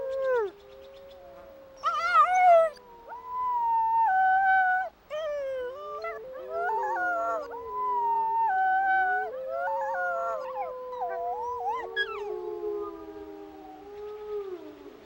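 A young adult male wolf howls in long, wavering, drawn-out calls, several howls overlapping and rising and falling in pitch, with brief whimpering yips between them, fairly close and clear against a quiet background.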